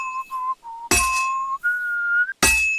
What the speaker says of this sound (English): My whistling is not that bad, Mutt.